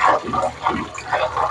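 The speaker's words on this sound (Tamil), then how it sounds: "நல்லா ஒருக்கா ரெண்டு தரம் வடிவா கழுவி எடுப்போம்." Freshly cut banana leaves are swished and rinsed in water in a Jaffna-style kitchen, giving a few loud splashing, gushing sloshes in uneven bursts with short pauses between them.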